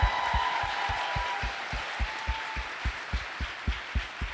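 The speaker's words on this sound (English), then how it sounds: "Please give her a round of applause." A crowd applauds with a dense wash of clapping, and low, regular thumps pulse steadily beneath it.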